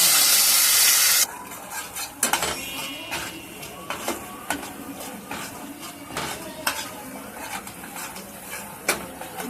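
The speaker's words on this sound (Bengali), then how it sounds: "বাটা মশলাটা আমি একটু ভালো করে কষে নিয়েছি।" A ground spice paste is sautéed in a pan for a paneer curry with sweet yogurt, with repeated sharp scraping and clinking of a spatula against the pan over a low sizzle, after a brief burst of loud hiss at the start.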